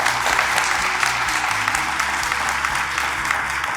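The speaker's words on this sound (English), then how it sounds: "We have a round of applause for Heidi, by the way." A round of applause for Heidi, manager of Brampton Transit, at a public transit funding event, sustained crowd clapping at an even level from start to finish.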